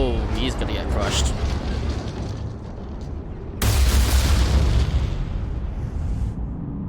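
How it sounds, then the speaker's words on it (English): A bomb goes off in Mass Effect 3 gameplay as a sudden loud, broad blast that swells and rumbles for several seconds over a dense background din of battle and game sound. "Oh, and there's the bomb."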